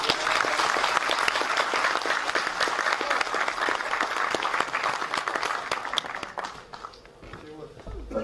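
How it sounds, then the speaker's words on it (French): Loud, sustained applause from an audience fills the clip, with dense clapping that continues steadily before tapering off slightly near the end. "Je vais demander à applaudir s'il vous plaît."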